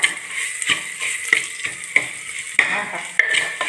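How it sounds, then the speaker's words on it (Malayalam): Ground rasam spices sizzle in oil in a clay pot while a spoon stirs them. Steady frying hiss runs throughout, cut by repeated sharp scrapes and clinks of the spoon against the pot, close and clear. "ഇനി ഇതിൻ്റെ പച്ചമണം ഒന്ന് മാറുന്ന വരെ നമുക്ക് നന്നായിട്ടൊന്ന് ഇളക്കി കൊടുക്കണം."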